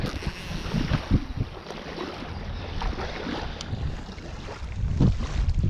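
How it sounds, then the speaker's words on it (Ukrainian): Steady wind roars and buffets the microphone over a low rumble of open water at a pond, with no talking. "Вітер піднявся такий неприємний."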